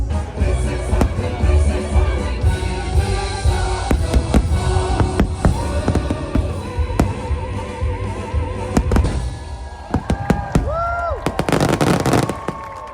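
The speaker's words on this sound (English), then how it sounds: "So, fireworks, phenomenal." Fireworks at a Disney World Halloween party boom and crackle repeatedly, loud and close, with bursts layered over a rumbling background and a few whistling rockets near the end.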